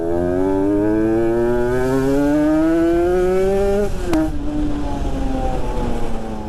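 A modified two-stroke Yamaha Jupiter MX King motorcycle, an older bike, revs hard and close, its engine pitch climbing steadily for about four seconds before snapping down as the rider shifts, then building again under the rasping exhaust.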